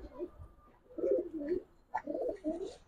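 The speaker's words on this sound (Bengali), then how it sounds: "যেটা সাপচিলা কবুতর" A male Sapchila pigeon cooing close by, a few soft, throaty coos in a rhythmic run, fairly quiet and alone.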